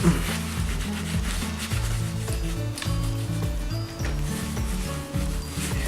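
A cloth rubs and wipes over a quilted leather Chanel double flap bag, producing close, continuous scratchy rubbing strokes in uneven bursts with no talking.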